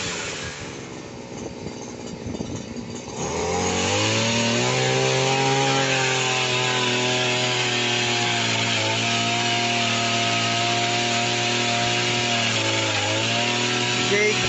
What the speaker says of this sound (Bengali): দেখতে পাচ্ছেন একটা বড় ডাল কাটছি আমরা দেখার জন্যে।